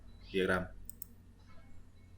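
A computer mouse clicks once or twice, sharp and close, during work in a volume-calculation diagram program, with faint room noise around it.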